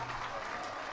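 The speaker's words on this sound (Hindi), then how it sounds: "एक बार सतुआ बाबा जी के लिए जोरदार ताली बजाकर स्वागत वंदन अभिनंदन।" Dense crowd applause greets Satua Baba at a Shiv Mahapuran katha gathering in Prayagraj, a continuous wash of many hands clapping.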